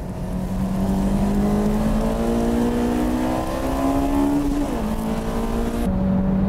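Honda S2000 and Mazda RX-8 race cars circling a track, a loud, steady engine drone rising in pitch as they accelerate, briefly dropping at a gear change near the end, with no talk.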